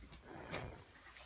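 A door inside a 2019 Coachmen Chaparral 391QSMB fifth wheel trailer is shut, a single faint slide and soft thud up close, with nobody talking.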